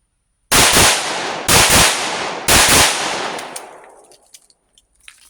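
Three loud pistol shots from a 357 SIG fitted with an Ed Brown barrel, firing Underwood ammunition, land about a second apart, each with a sharp crack and a ringing echo that fades out with faint clinks.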